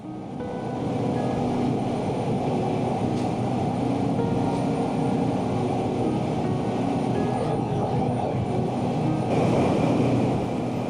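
A small airplane flies near Denali in Alaska, its engine giving a steady, loud, unbroken drone that holds for the whole stretch with no voices.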